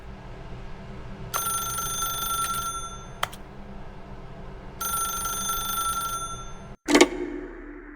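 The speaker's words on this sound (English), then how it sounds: "If you can truly place your faith in another, then pick up the phone." A telephone rings in the video game The Stanley Parable, two bursts of loud, close bell ringing separated by a pause, then a clatter as the receiver is picked up.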